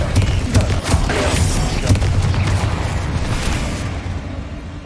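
A Bombarda blasting spell goes off in Hogwarts Legacy, a loud, rumbling burst with rapid crackling pops in the first second or two. A dense roaring explosion tail then fades slowly over the remaining seconds.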